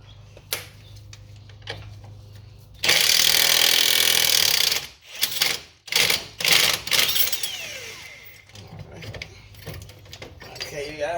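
An impact power tool loosening a control arm bolt on a 2012 BMW X5 xDrive50i, with a loud sustained rattling burst followed by several shorter bursts, close up, with speech heard around it.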